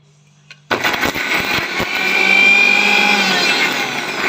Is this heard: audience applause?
no